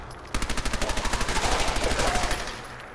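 A rapid, evenly spaced burst of automatic gunfire in Fallout 4, about twenty sharp shots in quick rhythm, loud and close, with no talking over it.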